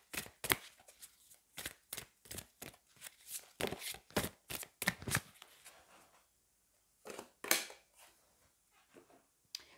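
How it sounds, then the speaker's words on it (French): Angel oracle cards are shuffled in a quick series of crisp riffling bursts, close and fairly quiet, with a brief pause before a few more shuffles. "on va aller prendre une carte des anges"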